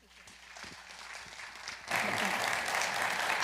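An audience at a Chamber of Commerce legislative forum bursts into applause partway through, a dense, loud wash of clapping that follows quieter murmuring and continues to the end.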